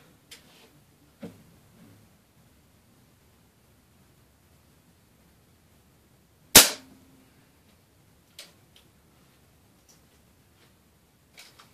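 A Daisy .22 wadcutter pellet fired from an air gun gives one sharp, loud crack standing alone against quiet, with a few faint clicks and small knocks scattered around it.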